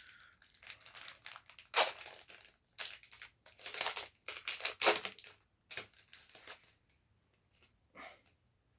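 Foil wrapper of a 1992 Parkhurst Series 2 NHL hockey card pack being torn open, giving close, loud bursts of crinkling and crackling in uneven clusters with short pauses between.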